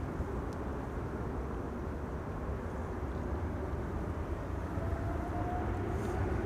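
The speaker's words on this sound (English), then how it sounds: "Lufthansa flight 989 to Frankfurt, rolling A320neo." A Lufthansa Airbus A320neo rolls for takeoff at Amsterdam Schiphol, heard as a steady, loud, broad jet roar that holds evenly throughout without talk.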